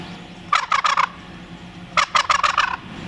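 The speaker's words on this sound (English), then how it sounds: "Here's the sound that the tom makes." A male wild turkey tom in the spring woods gobbles twice, each a loud, rapid rattling burst of about a half second, separated by a short pause, with no talk over it.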